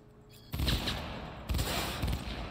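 Gunfire in the video game Cyberpunk 2077, heard as two loud bursts of rapid shots about a second apart over a low background, with no talking.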